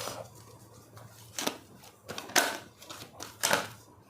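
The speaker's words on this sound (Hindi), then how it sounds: "बट अभी मैं शफल करूँगी" Tarot cards are shuffled by hand in close, crisp papery riffles that come in three or four short bursts over a faint background, with no talking.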